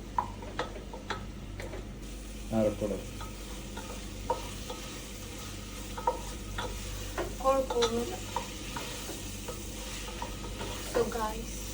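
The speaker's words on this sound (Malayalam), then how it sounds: "കുറച്ച് കാഷ്യും പിന്നെ കുറച്ച് തക്കാളി സവോള ഇതൊക്കെ കിട്ടിയത് നന്നായിട്ട് ഇങ്ങനെ വഴണ്ട്" Tomato, onion, cashews and whole spices sautéing in a pan for biryani, with a steady sizzle of frying and repeated scraping and stirring clicks from a spoon, close up and with no talking.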